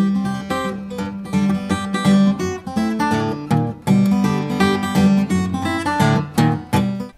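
An electric guitar riff played fingerstyle without a pick, with punchy, snapping plucked notes in a driving repeated pattern, loud and full over about seven seconds, no talking.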